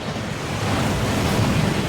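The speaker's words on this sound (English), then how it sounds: "That waterfall washes away all enchantments." A waterfall in the video game Hogwarts Legacy roars and rushes loudly, a dense, constant wash of falling water with no other sounds.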